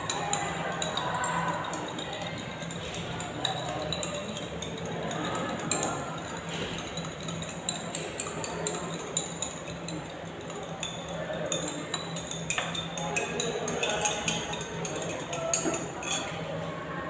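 A stirring rod or spoon dissolves copper sulfate in a glass container, giving repeated light clinks and scraping taps against the glass under a continuous background hum, with a person talking throughout.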